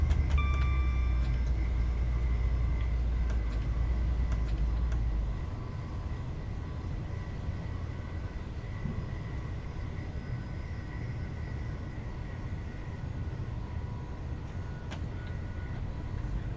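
Class 185 diesel train in Train Simulator 2022 running on the Huddersfield to Manchester line, a steady low rumble with a deep hum that drops away partway through, plus faint tonal whines, quiet and continuous.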